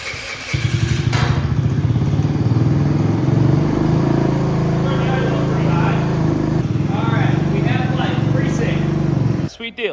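A small engine on a $100 Marketplace machine fires up after fuel is hooked to the carburetor, settling into a loud, steady, close chugging idle for about nine seconds before cutting off abruptly.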